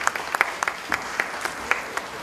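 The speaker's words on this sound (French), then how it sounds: "Ça mérite des applaudissements bien nourris pour le pasteur Kamassé" A church congregation applauds Pastor Kamassé after a prayer, with moderately loud clapping and distinct sharp individual claps popping out of a steady crowd patter, no voices on top.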